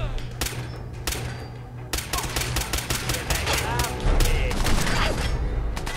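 Rapid gunfire in the video game Fallout 4, with bursts of sharp shots rattling off in quick succession, irregular volleys dense and loud.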